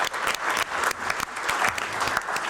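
An audience applauds at a panel event, a dense steady patter of many hands clapping throughout, fairly close and without speech over it.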